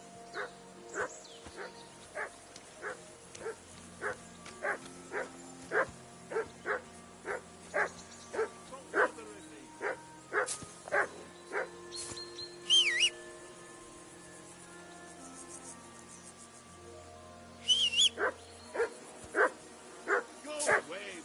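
Dog barking in Kingdom Come: Deliverance II, a steady run of evenly spaced barks, fairly close and moderately loud, with short louder bursts of other game sounds in between.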